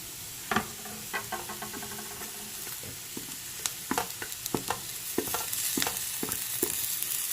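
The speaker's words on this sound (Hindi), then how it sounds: "थोड़ा सा हम इसको भी भूनेंगे, सब्ज़ मिर्च को भी।" Green chillies sizzle and fry in onion masala while a spoon stirs and scrapes the pan, a steady hiss under repeated close knocks and clinks of the utensil; no talking.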